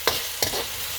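A pan of Manchurian sauce with ketchup being stirred, two quick scraping strokes with a soft sizzle underneath, close and fairly quiet.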